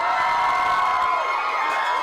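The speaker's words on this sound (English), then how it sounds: "this cheering noise going on" A large crowd of extras cheers and whoops on a film set during a scene shoot, a dense, continuous roar of many voices with excited shouts rising and falling throughout.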